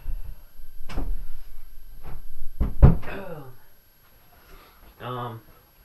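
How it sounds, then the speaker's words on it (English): A sharp thud of a door being shut, with scraping and handling sounds around it, close by, followed by a brief tonal squeak. "I gotta shut the door"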